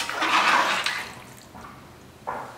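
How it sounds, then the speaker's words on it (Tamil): A cup of warm water is poured into soaking seeraga samba rice in a pot for mutton biryani. A close splashing pour builds briefly and then fades, followed by a couple of softer trickles and drips. "இப்போ இந்த 1 கப் அளவுக்கு தண்ணியும் அதில் சேர்த்துடலாம்."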